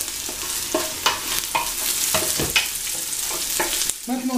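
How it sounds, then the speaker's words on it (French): Onions sautéing in a pan for a Tunisian white bean stew, a steady close sizzle with irregular scraping strokes of a spoon through the pan, heard alone without talk. "Voilà, les oignons sont revenus."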